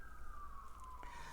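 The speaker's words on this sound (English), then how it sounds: "ignore the sirens in the background" A distant siren wails faintly, its tone sliding slowly downward against a quiet background.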